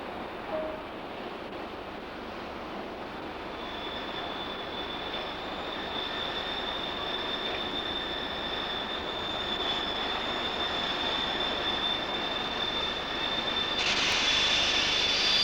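A class 50.35 steam locomotive train at Thale runs steadily in the distance, a faint continuous rumble with a thin high wheel squeal that grows slightly louder toward the end.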